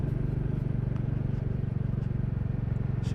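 A Royal Enfield Classic 350 motorcycle engine chugs steadily while riding, a low, even, lazy thumping pulse that holds the same rhythm throughout.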